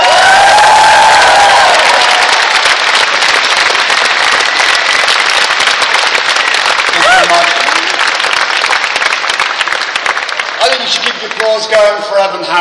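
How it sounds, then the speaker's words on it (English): A crowd at the Science is Vital event bursts into loud, sustained clapping and cheering, dense and close, with scattered whoops and shouts rising near the end. "Applause going for Evan Harris, who's done so much for this event today."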